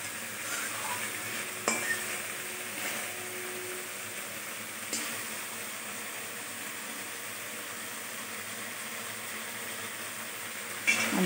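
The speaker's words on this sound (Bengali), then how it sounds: "ততক্ষণ আমি মশলা কষাতে থাকবো, তাইলে পুড়ে যাবে না" Masala stirred and frying in oil, a soft continuous sizzle with occasional sharp clinks of a spoon against the pan, close and unaccompanied by speech.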